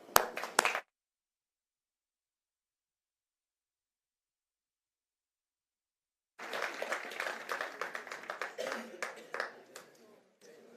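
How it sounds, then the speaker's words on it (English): Clapping from the audience at a flyfishing championship closing ceremony: a brief burst at the start, then a long silence before a second round of moderate applause rises and fades, with some voices mixed in. "One more applause."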